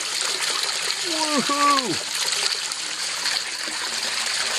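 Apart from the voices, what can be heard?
water running through a gold prospecting sluice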